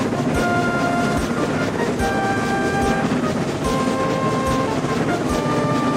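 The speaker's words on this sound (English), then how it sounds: "The train went faster and faster, too fast for Thomas" A train runs along the track with steady rhythmic clickety-clack beats over a rumbling roll, moderately loud and heard alone.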